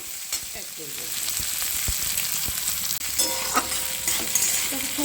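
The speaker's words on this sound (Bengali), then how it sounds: "খুব ভালো করে কিন্তু নাড়িয়ে চাড়িয়ে ভেজে নিয়েছি যতক্ষণ আমার কাঁচা গন্ধটা বেরিয়ে যাওয়া অবধি" Tomato, spices and chopped vegetables are stir-fried over low flame, giving a constant crackling sizzle close by, broken by frequent clattering stirs and a sharp clank near the middle; no voices are heard.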